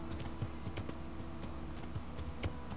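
Horse hooves clip-clop in Kingdom Come Deliverance as a faint, steady rhythmic trot under a low background hum, with no talk.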